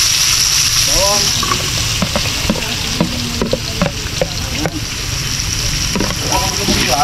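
Onions and garlic frying in a pan for pancit, a steady broadband sizzle with stirring clatter and scraping, while people talk intermittently over it.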